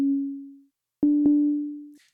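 A synth pattern in Ableton Live's Wavetable instrument, recreating the sound of a pop song: a low sustained tone fades out, then after a short gap returns with two quick plucked re-attacks and holds before cutting off, playing alone.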